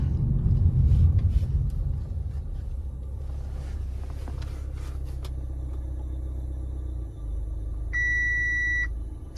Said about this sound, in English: every time I do a scan it gives a beep